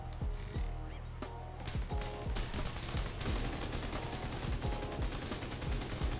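Rapid gunfire in The Division 2, with loud repeated shots in quick bursts that run almost continuously over a steady game soundscape.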